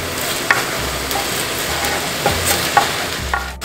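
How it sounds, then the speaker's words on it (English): Tomato, onion and green chili fry together in a pan for aloo palak, with a steady close sizzle broken by a few sharp clinks and scrapes of stirring, and no voices. "So now you can see the tomato and onion and the green chili is cooking."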